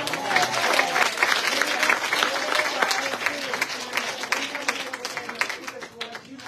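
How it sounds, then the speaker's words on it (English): At a gospel anniversary program, a church congregation claps for God in a steady, lively round of hand clapping with crowd murmur and voices mixed in, gradually tapering over several seconds. "we just have to give another hand clap to God for Sister Marie"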